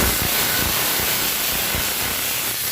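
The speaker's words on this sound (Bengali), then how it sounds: "বেগুনটা ভেজে নেব" Eggplant pieces frying in oil in a wok give a loud, continuous, dense hiss with soft low thumps from stirring running underneath.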